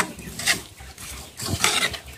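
Food being stirred in a pot on a wood-fired stove while flour is mixed in, with soft scraping and clinking of a utensil in two bursts, fairly quiet and close.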